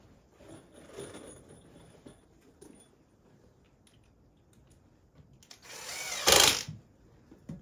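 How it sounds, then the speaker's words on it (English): Power drill driving screws into plywood, faint whirring bursts early on, then a loud close spin-up that peaks and stops near the end. "Let's put the screws in first."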